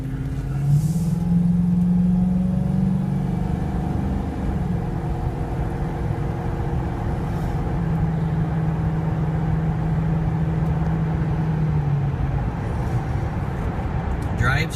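Steady interior drone of a 2011 Ford Crown Victoria Police Interceptor with 133k miles as it drives, its engine tone rising and holding under continuous road noise.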